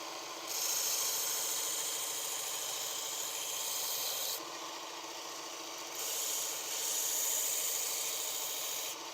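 Knife edge ground against a running belt grinder: a steady high abrasive hiss with two louder grinding passes, fairly close, with no voices.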